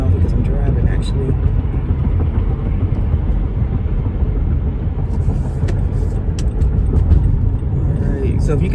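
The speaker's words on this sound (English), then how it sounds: "I can't sign off because I'm driving actually." Inside a moving car, a steady, loud, low road and engine rumble runs throughout, with a voice speaking over it.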